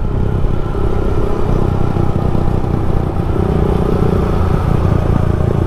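A Yamaha PG-1 115cc air-cooled motorcycle rides along a road at night, its engine droning steadily and loud up close with a continuous low rumble and some mechanical clatter, and no voices over it.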